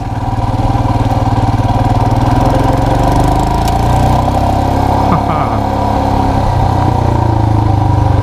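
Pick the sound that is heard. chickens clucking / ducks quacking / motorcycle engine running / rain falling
motorcycle engine running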